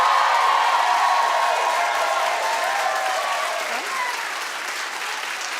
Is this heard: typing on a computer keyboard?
no